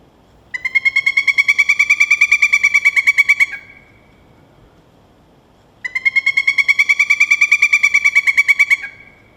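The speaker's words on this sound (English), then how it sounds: "And here's the call of the pileated woodpecker." Pileated woodpecker giving two loud, clear bursts of rapid, evenly spaced call notes, each lasting about three seconds and separated by a quiet gap, with no voices.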